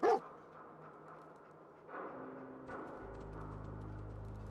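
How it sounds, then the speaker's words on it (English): Dogmeat, the canine companion in the video game Fallout 4, gives one short, loud bark at the start, followed by quieter game ambience with a low steady hum. "I'm trusting my family's future to a dog."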